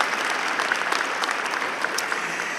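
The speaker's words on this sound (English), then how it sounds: "Please give them a round of applause again as they are here with you." Steady crowd applause at a high school graduation ceremony, broad and even, heard from a moderate distance for the whole stretch.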